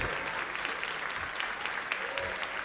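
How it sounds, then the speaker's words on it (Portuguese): A church congregation applauds during a sermon, with a soft, steady wash of many hands clapping at moderate distance, overlaid by a faint voice, over a little under three seconds. "Você pode aplaudir o Senhor por essa vitória?"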